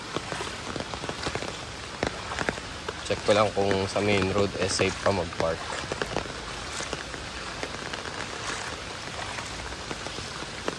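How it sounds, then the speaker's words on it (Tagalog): Heavy rain pours steadily and densely, close by, during flooding in Antipolo, while a person talks over it for a few seconds. "lumalakas pa yung ano, yung ulan"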